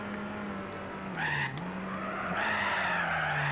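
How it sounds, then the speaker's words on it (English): Car tyres squealing and skidding through a drift in the Gran Turismo HD racing game, a steady engine drone underneath with the screech rising in two loud bursts and holding toward the end, no talk. "see if we can get some drifts going"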